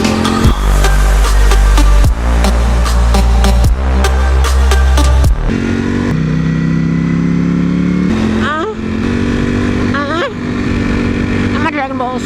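A Ferrari supercar engine revs hard and close for about five seconds, then its roar drops back beneath steady talking.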